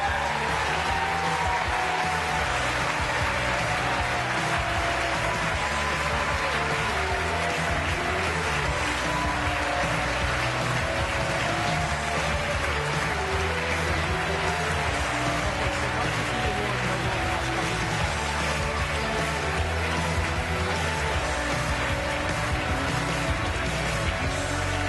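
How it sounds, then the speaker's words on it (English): At a 2009 Irish business awards show honouring the Entrepreneur of the Year, an audience claps in a sustained, dense round of applause that rolls on steadily for the full stretch with no talk over it. "Big round of applause, Terry."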